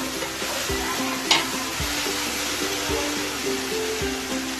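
Green chili sautéing in a pan for chicken lababdar, a continuous close sizzle and fry with a few soft stirring scrapes and a brief clatter partway through.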